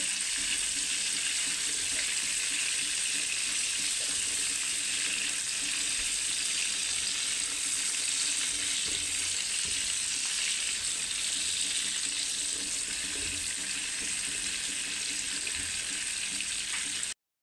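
Prawns fry in mustard oil in a frying pan after being flipped, giving a continuous bright, hissing sizzle at an even level throughout, with no voices.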